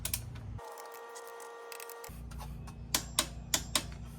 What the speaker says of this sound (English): I'm going to torque these up, the brake caliper bolts that we haven't yet torqued up